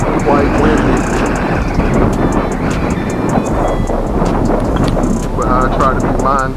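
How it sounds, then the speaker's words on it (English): Strong outdoor wind buffets the microphone on a breezy day, a loud continuous rumble with gusty swells, while someone talks over it throughout. "Quite windy."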